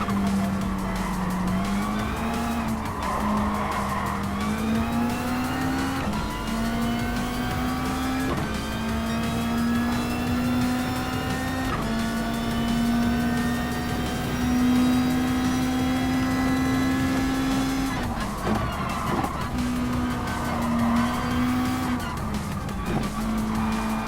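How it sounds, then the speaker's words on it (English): Race cars in Gran Turismo Sport with engines droning and shifting pitch while tires squeal almost continuously through corners, loud and sustained. "The squealing of the tires isn't as obnoxious as it was in earlier Gran Turismo games."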